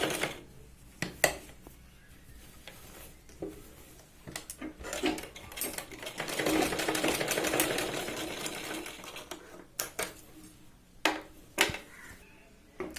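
Sewing machine stitching a sherwani for a child, running in short bursts with clicks and pauses between them, then one longer stretch of steady whirring in the middle, close and fairly quiet.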